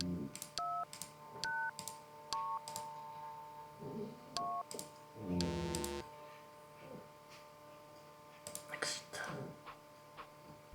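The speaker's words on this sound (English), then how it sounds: "It's a public phone." A public phone is dialed in the video game Runaway: A Road Adventure: a quick series of touch-tone beeps and button clicks, with handling noise and a burst of buzzing tone, while people talk quietly underneath.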